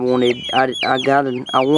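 Chickens cluck loudly and close by in a series of short, rising bursts with brief pauses between them.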